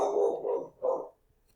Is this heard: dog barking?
yes